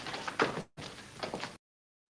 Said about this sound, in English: what you just heard were the doors opening,